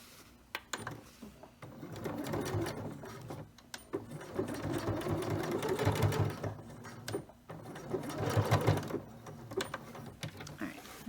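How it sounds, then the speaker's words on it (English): A sewing machine stitches elastic onto a cloth diaper in bursts of steady mechanical whirring, fairly close and separated by short pauses. "And then I'm going to stitch this down."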